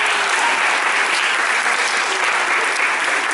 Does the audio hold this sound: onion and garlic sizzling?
no